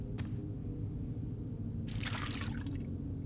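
Water sloshes in a basin in the video game The Black Mirror, a single early drip followed by a brief splashing burst over a low steady background hum.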